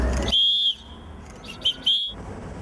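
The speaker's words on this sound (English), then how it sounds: "We are against Yesergepova, and we whistled in protest." Protesters in Kazakhstan blow shrill whistles, one long blast followed by two shorter ones, loud and close over a low background murmur.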